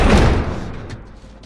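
A heavy door slammed shut and barricaded in The Last of Us video game, one loud close thud with a low boom that fades into rumbling scraping, no voices.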